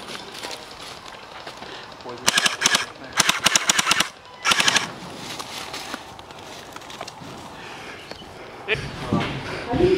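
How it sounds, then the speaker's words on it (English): Gel blasters fire in rapid automatic bursts during an outdoor milsim game, with several loud rattling volleys in the middle of the clip and shouting players heard throughout. "Shoot the gun!"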